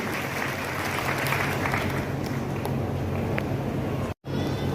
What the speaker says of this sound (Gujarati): સાહેબશ્રીને જોરદાર તાળીઓથી ફરી બધા લઈએ